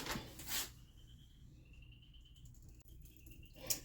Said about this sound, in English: I don't know what kind of insect that is making the chirping sound.